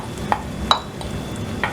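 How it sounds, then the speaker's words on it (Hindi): Cashew and onion paste fries in oil for egg korma, a soft sizzle broken by a few light scrapes and clinks of a spoon against the pan, no speech. "इसमें ये काजू और प्याज का पेस्ट डाल लेंगे।"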